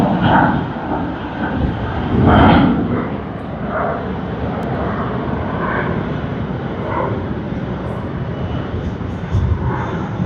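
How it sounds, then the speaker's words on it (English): A China Eastern Airlines Airbus A330 jet at Sydney Airport gives a steady, moderately loud engine roar that swells briefly near the start, then holds as a broad continuous rumble. "And China Eastern Airlines Airbus A330. Sydney to Ayers Rock."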